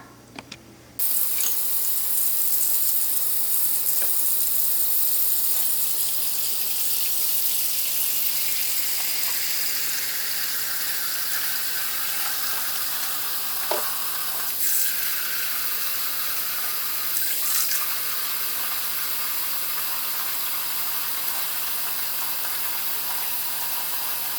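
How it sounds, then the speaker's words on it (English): Kitchen sink filling from the tap, a loud steady rush of running water that starts abruptly and continues unbroken, with a few small clinks, no talking. "So while my water is filling up"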